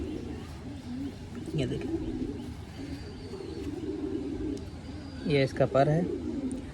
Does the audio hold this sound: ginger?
no